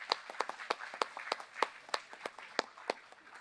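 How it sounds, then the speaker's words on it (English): Scattered, sparse clapping from a small event audience thanking a sponsor, individual claps distinct and irregular rather than a full ovation. "Let's give them a round of applause."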